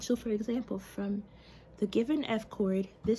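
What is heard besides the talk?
No everyday noise stands out behind the speech.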